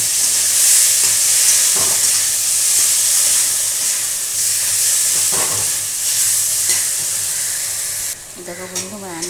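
Chillies and spice paste fry with pointed gourd in hot oil, a loud, steady close sizzle with occasional stirring scrapes, easing near the end, where a voice briefly speaks.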